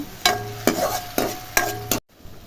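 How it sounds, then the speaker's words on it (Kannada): Ginger-garlic paste, tomato, cinnamon and cloves frying in a pan, sizzling under four quick, close spatula scrapes before the sound cuts off abruptly. "ಶುಂಠಿ ಬೆಳ್ಳುಳ್ಳಿ ಪೇಸ್ಟು ಟೊಮೊಟೊ ಹಣ್ಣು ಚಕ್ಕೆ ಲವಂಗ ಇದಿಷ್ಟು ಸ್ವಲ್ಪ ಫ್ರೈ ಮಾಡ್ಕೋಬೇಕು"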